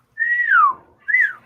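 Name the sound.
person whistling, imitating a whistle call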